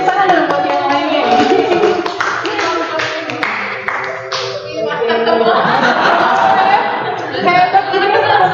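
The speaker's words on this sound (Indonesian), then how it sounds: "Tepuk tangan dong buat yang lainnya" A classroom gives a round of applause for fellow students after a quiz winner is announced, with scattered clapping mixed with chatter, chuckles and a teacher's voice throughout.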